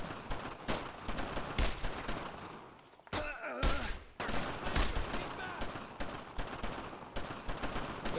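Sustained suppressing gunfire in the video game Brothers in Arms, with dense bursts of rifle and machine-gun fire running almost continuously, one brief lull, and voices under the shooting.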